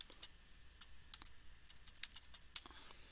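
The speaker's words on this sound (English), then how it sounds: "I hit enter, and I'm going to write this is italic." Fingers typing on a computer keyboard while HTML code is entered, a quiet, uneven run of light key clicks with brief pauses, close and alone.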